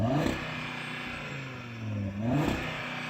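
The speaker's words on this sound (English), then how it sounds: "So I'm going to rev up this Audi" Audi 5-cylinder engine revved while stationary, near and loud, with two rising and falling rev sweeps bouncing against a soft limiter.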